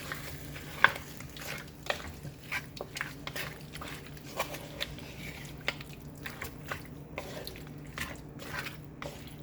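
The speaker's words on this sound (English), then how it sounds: "And then I am going to put my lamb into it. And I'm going to mix it." Pieces of lamb stirred into a pot of curry with curry powder and chili powder, wet squishing and soft scraping taps at an irregular rhythm, close and fairly quiet.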